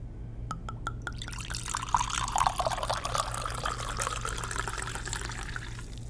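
Wine pours into a glass in a steady, close liquid stream that follows a few clinks at the start, with gurgling and small fizzing bubbles near the end and no talk.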